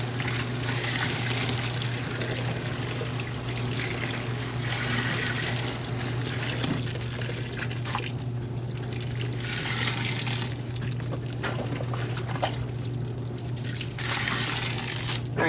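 Cold water runs steadily from a tap for a sudsy rinse, a continuous trickling hiss alongside a low steady hum, with no one speaking.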